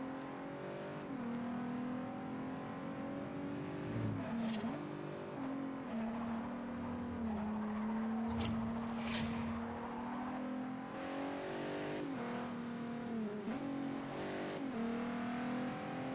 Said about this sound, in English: listen to this GTR